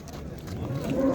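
A cow lows at a busy livestock bazaar in Kitob, a long tonal moo rising near the end over crowd murmur and background chatter.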